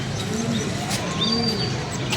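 Pigeons coo in low, soft repeated calls against a steady outdoor background, with a few faint chirps above.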